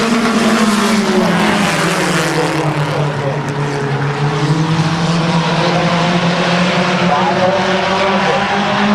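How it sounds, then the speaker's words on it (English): Race cars roaring side by side down the stretch at Midvale Speedway, a loud continuous engine drone with shifting pitch that holds steady throughout, close and dense with no talk over it. "Side by side, they race down to that stretch."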